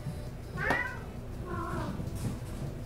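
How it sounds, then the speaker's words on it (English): Cats playing among a pile of makeup let out two distinct meows, the first louder and sharper, close by over a low rustling background. "I just got cats and they're playing in the plethora of makeup that's around me."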